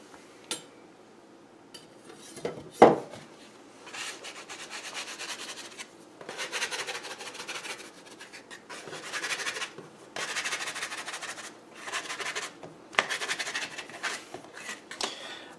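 A knife draws repeated short, scraping strokes across a loaf of fresh-ground whole wheat bread dough, with soft rhythmic rasping bursts separated by brief pauses and an isolated sharp knock early on, all quiet and close.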